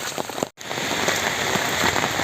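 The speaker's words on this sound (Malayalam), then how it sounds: "ശക്തമായ മഴയാണ് ഇവിടെ പെയ്തുകൊണ്ടിരിക്കുന്നത്" Heavy monsoon rain pours onto surfaces near the Canoly Canal, making a dense, steady hiss of close raindrops that breaks off for a moment and then resumes.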